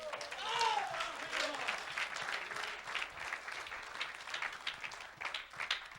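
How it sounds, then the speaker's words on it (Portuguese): A church congregation applauds during a sermon, with sustained clapping building and fading as voices cheer and call out over it. "Aplauda a Deus por isso"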